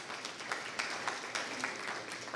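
An audience applauds at a county town hall meeting, a sustained round of clapping from a roomful of people with a few sharper claps standing out.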